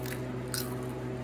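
A single crisp, close bite crunches into a freeze-dried zucchini parmesan chip made in a Harvest Right freeze dryer, brief and sharp over a steady low hum.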